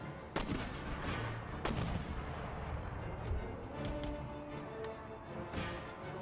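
Howitzer artillery in the Empire Total War battle, firing several sharp, distant booms at irregular intervals over a steady battlefield din, with no talk.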